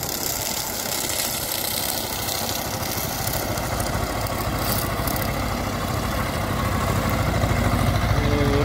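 A T-25 tractor runs at the edge of a potato field while turning around without working the clutch, a steady mid-pitched engine chug heard from a moderate distance, growing slightly louder toward the end, with no speech.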